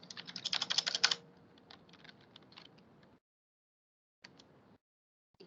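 Rapid keystrokes on a computer keyboard as a username is typed, a dense burst of clicks up front, then slower scattered taps and a final short pair after a pause, close and fairly quiet.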